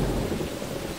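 A thunderstorm in Jurassic Park Operation Genesis: a dense, steady roar of rain with low rumbling thunder, loud and continuous for the whole second, with no voices.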